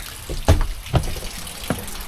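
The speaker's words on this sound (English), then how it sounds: "The roof just decided to let some water down." Water leaks down from a roof, dripping and splashing in a few distinct close splats over a steady wet hiss.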